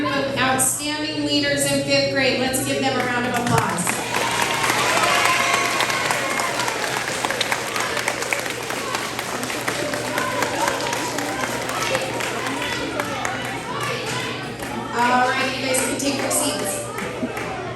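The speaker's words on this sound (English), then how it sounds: "Let's give them a round of applause." Elementary school crowd applauding fifth grade award winners at a ceremony, a sustained wash of clapping in the middle stretch, with speech before and after it.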